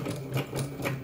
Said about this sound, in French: directement après, la lame de découpe prend la suite